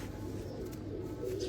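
A racing pigeon gives soft, low cooing, faint and close, over a quiet steady background with no talking.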